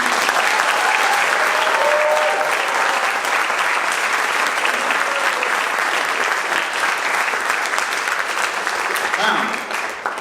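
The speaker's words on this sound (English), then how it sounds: "let's have a round of applause for every young person who's ever joined us on this stage" Long round of applause from a gala audience at a youth awards night, a loud, sustained sheet of clapping with some crowd voices that tapers off near the close.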